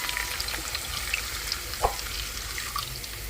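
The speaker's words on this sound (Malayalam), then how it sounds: "അടുത്ത് പുളിവെള്ളം ഒഴിക്കാൻ പോകണം" Tamarind water poured into a pan of frying curry leaves, giving a soft, steady sizzle and bubbling wash with a single faint clink.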